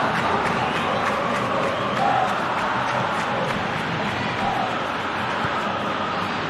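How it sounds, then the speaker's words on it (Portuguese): A large football stadium crowd in the PES 21 game roars with displeasure, a dense, continuous, loud wash of massed voices and jeers with no individual speech standing out. "Eu tenho uma ligeira impressão que a torcida está bem brava com tanto erro de passe"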